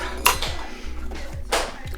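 Cutlery and snack cups are handled while packing for a long-haul flight with toddlers, giving close metallic clinks and sharp clatters at irregular moments over a quiet background.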